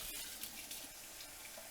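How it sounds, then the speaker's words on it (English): Water runs from a kitchen sink faucet in a steady broadband rush, close and moderately loud, with no talk over it. "faucet there in the sink"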